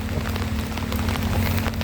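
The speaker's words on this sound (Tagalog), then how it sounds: "Ang ulan to." Heavy rain during a typhoon, a dense, steady patter of drops hammering a nearby surface with a constant low hum beneath it and no voices.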